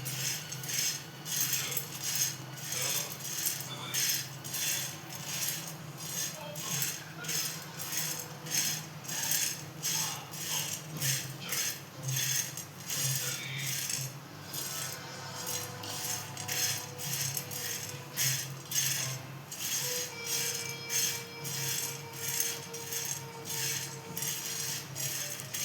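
Wild monsoon vegetables pan-roasting, with a utensil scraping and clinking steadily against the pan in a regular rhythm under a soft sizzling bed, fairly quiet and close, with no talk.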